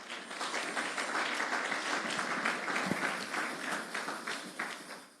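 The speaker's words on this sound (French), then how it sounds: "Est-ce qu'on peut acclamer la parole de Dieu?" A church congregation applauds at a worship service, steady dense clapping from many hands that fills the room for several seconds at moderate distance.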